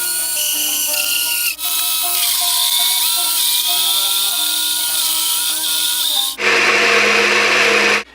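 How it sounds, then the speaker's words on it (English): A worn household blender purees hummus, its loud, steady motor whir running continuously, briefly dipping twice and then surging into a harsher, higher-pitched roar near the end. "my blender has just about had it because of my abuse with hummus over the years"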